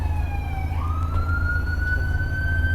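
A police cruiser siren sounding at a county fair parade, a single rising wail that climbs and holds steady, moderately distant over a constant low engine rumble.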